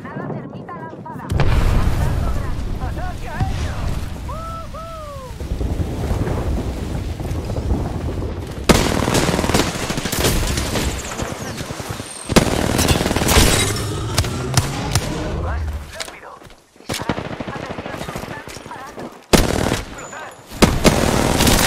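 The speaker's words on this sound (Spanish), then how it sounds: "Sobre el blanco, disparando." Gunfire in the video game Apex Legends, heavy and near-continuous: loud close shots and booming impacts over wind-like rumble, with sharp bursts recurring throughout and brief lulls between.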